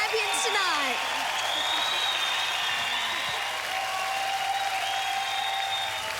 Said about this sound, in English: Let's have a round of applause for our champions tonight.